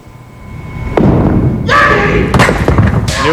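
A 5-pin bowling ball thuds down and rolls, then crashes into the pins with a loud clatter, followed by a crowd cheering and a voice.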